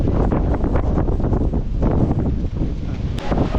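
Strong, steady wind gusts outdoors near a pond at a site under repair in Sri Lanka, roaring and buffeting close to the microphone without pause for the whole stretch.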